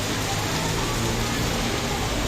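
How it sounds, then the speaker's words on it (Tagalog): Dense, steady hiss of heavy rain falling on the Laguna Loop, constant and close with no pauses or voices. "Lakas ng ulan."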